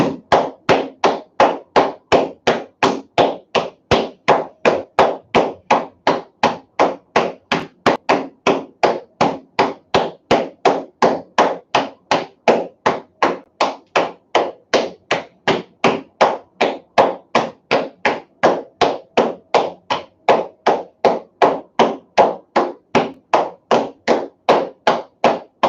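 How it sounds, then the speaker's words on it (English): Rapid, steady slapping of hands against the outsides of the knees during a qigong exercise, dozens of even, close-miked thuds in a continuous brisk rhythm with no voice over them. "Let's hit the outsides of the knees."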